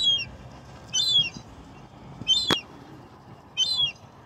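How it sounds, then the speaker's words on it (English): Seagulls give short high calls three times while pigeons are fed outdoors, faint background rustle and one sharp click in between. "it looks like the seagulls want to come in on the action"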